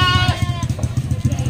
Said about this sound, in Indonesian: Kambing datang semua.